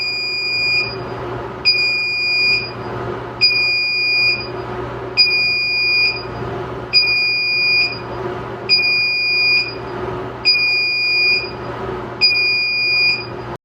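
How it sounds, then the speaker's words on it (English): A Viewtron NVR sounds its perimeter intrusion alarm: eight evenly spaced, loud electronic beep bursts, each about a second long with roughly a second's gap, repeating steadily over a low background hum. "you'll hear the perimeter alarm go off on the NVR"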